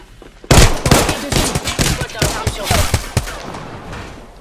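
Gunfire in the battle royale video game Apex Legends: a loud sudden burst of rapid shots, then repeated sharp cracks and impacts with scattered pauses, close and dominant.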